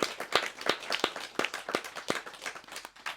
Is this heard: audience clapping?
yes